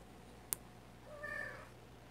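An unspayed female house cat meows faintly in the background under a desk. There is one soft, drawn-out call over steady room hum, with a brief sharp click just before it.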